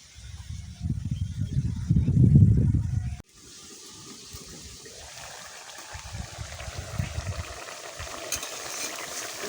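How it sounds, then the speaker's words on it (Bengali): Small potatoes and gima greens frying in a curry pan get stirred over a cooking fire, a loud scraping burst followed by a steadier low sizzle with intermittent stirring scrapes, no voices. "তরকারিটা এখন আমি একটু উপর নিচ করে দেব"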